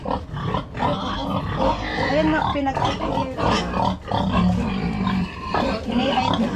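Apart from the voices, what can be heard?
pig grunting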